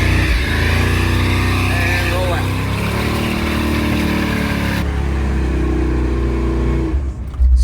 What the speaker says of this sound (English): activate the switch to lock the front brakes,